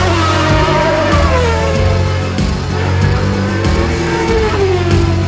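A Ferrari and a McLaren Formula 1 car race nose to tail, loud high engine whine with rising and falling pitch across the lap, tires faintly squealing, no voices.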